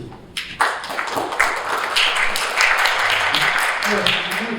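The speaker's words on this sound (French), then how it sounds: "on vous applaudit" Applause from a conference audience at an international accessible tourism round table, a steady broadband patter of many hands that builds after a short pause and holds for several seconds at moderate loudness.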